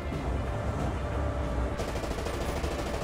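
Rapid machine-gun fire from an IS-2 tank in War Thunder rattles continuously, a dense steady burst of shots over rumbling engine noise, loud and unbroken throughout.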